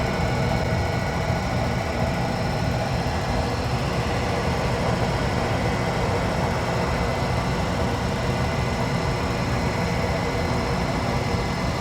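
A diamond grinding wheel spins continuously, a dense, even whirring hum with broadband hiss that holds steady and close throughout, with no voices.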